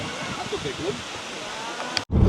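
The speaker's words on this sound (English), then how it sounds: "Waterfalls and the pool are absolutely massive." Constant rushing water fills the clip, a broad steady roar of a massive waterfall and pool in Litchfield National Park, Northern Territory, with faint voices mixed in before it cuts off abruptly near the end.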